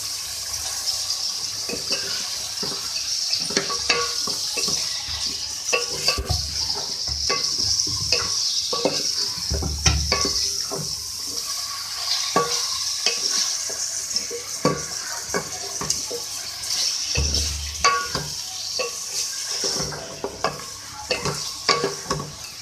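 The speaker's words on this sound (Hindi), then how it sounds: "अब मैं इसमें अदरक लहसुन का पेस्ट डाल दूँ।" Steady sizzling of ginger-garlic paste frying with chicken in a pan, with frequent scraping and stirring clatter throughout, close up and continuous with no talking.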